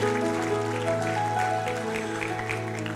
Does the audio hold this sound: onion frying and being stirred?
no